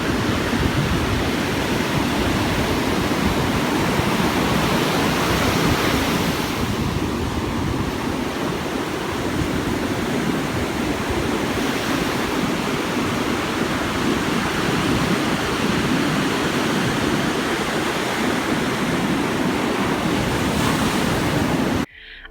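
Ocean surf breaks continuously on the beach at Salinas, Ecuador, a dense, loud wash of rushing water and spray with wind noise, swelling and easing without pause and no voices.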